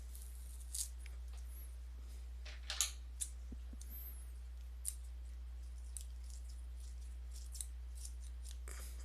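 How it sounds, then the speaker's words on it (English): Kitchen scissors snip at tape in a series of sharp, close, irregular cuts and clicks over a low steady hum, with no talking. "when it won't even cut with the kitchen scissors"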